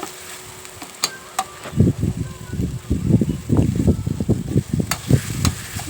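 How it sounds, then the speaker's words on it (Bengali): Grated onion frying in a pan until lightly reddened, heard as close, uneven bursts of sizzling and stirring that pick up after a quiet first couple of seconds, with no talking. "পেঁয়াজটা একটু হালকা লাল লাল করে ভেজে নেব"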